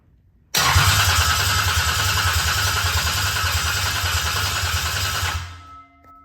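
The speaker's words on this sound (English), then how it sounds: "So let me go ahead and hit the starter." A Toyota 2JZ-GE engine catches almost instantly on the starter and runs loud and close with a steady, rough mid-pitched drone for about five seconds, then shuts off and winds down into quiet.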